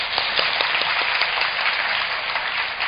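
Audience applause after a speech at a youth forum, a steady dense wash of many hands clapping at even loudness throughout, with no talking over it.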